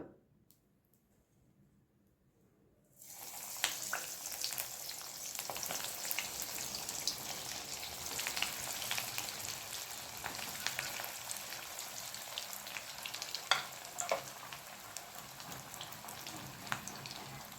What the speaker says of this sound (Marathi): आपण हे तळून घेणार आहोत. हे तुम्ही शॅलो फ्राय देखील करू शकता.